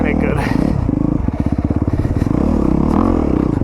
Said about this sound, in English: I'm on the 2022 Honda CRF250RX.